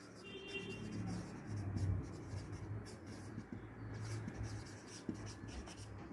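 Chalk scratches across a classroom board in steady strokes and taps, close and continuous, with a soft room hum beneath and no voices.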